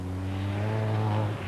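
A rally car driven hard on a downhill course, its engine holding a loud, steady high-revving drone with strong harmonics that dips slightly at the end, heard close with no voices.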